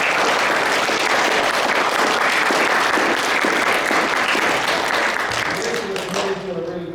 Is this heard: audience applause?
yes